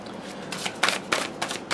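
A tarot card deck is shuffled close up, with several quick riffling bursts of papery flutter and snaps across the moment, no speech.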